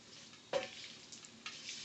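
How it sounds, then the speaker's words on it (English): Cooked pasta is tossed and stirred through rendered guanciale fat in a pan, giving a soft sizzle with two brief scraping stirs, quiet and close, with no voices. "we are going to toss the pasta in the fat of the guanciale"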